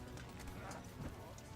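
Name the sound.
horse hooves clip-clopping in video game Kingdom Come: Deliverance 2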